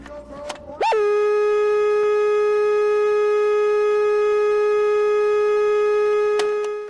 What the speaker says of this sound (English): TV test pattern tone.